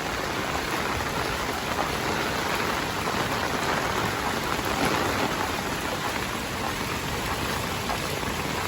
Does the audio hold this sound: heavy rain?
yes